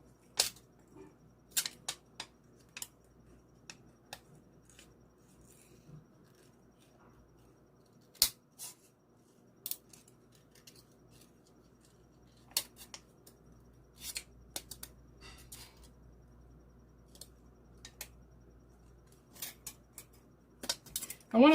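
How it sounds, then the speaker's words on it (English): Tiny scissors snip through a hard material in scattered, sharp clicks, some single and some in quick pairs, close and fairly loud against a quiet background hum, with no voice over them. "Let's see if tiny scissors do me any better."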